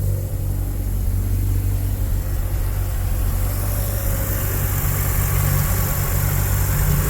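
A Mazda RX-7 engine idles steadily after a cold start with a low, constant rumble and faint vibration, no talking over it.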